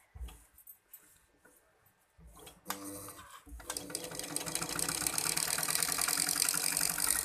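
A sewing machine stitching with thick anchor thread starts in short bursts, then runs steadily and loudly after a few seconds, its fast mechanical whir filling the rest of the clip.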